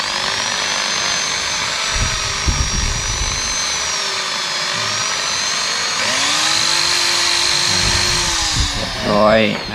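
A power drill bores through material at a bird trapping enclosure, its high motor whine holding steady and shifting pitch as it cuts, loud and close, with someone speaking briefly over it.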